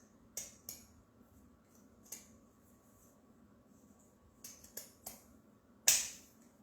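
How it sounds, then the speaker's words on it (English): A handful of sharp, crisp snips from pinking shears cutting through layered burlap, spaced irregularly and close by, with quiet pauses between cuts. "My scissors are not wanting to cut"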